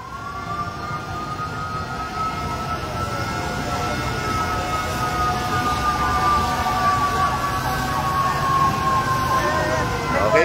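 A fire truck siren wails steadily in the distance at a fire on Macapagal Avenue, growing louder over a rumbling crowd and traffic background, with people talking nearby.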